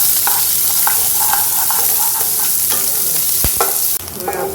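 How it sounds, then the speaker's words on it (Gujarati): Onions, green chillies and curry leaves sauté in a pan with a loud, continuous sizzle and repeated scraping stirs, then a sharp utensil knock near the end. "હવે આપણા કાંદા સંતળાઈ ગયા છે."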